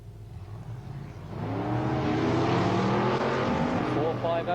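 Drag racing cars with a big Dodge engine charge down the strip at the 1989 ANDRA Winternationals, a loud, rising roar that builds after the first second and holds steady, with a commentator talking over it.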